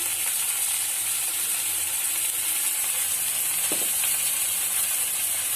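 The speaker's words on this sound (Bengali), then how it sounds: "মশলাটা ভালো করে কষিয়ে নেবো" Ground spices, including chili, turmeric and cumin powder, frying in a pan as the masala base for a sea pangas fish curry, a continuous loud sizzle with a brief scrape partway through, no voices.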